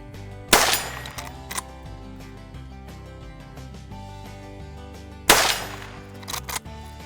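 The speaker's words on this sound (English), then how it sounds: "This is my 22 Magnum, shooting a 30 grain VMAX." Two sharp, loud rifle shots from a .22 Magnum firing 30-grain V-MAX rounds crack several seconds apart outdoors over background music.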